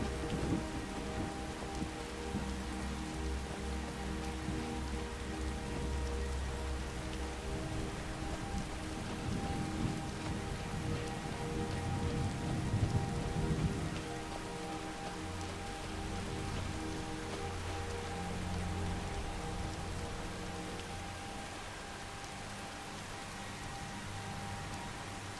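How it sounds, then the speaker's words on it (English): Steady rain falls in a VR Skyrim landscape, with low rumbles of thunder rolling beneath it, loudest around the middle. The rain is a continuous hiss and there is no speech. "like really nice thunder sounds in this really pretty scenery"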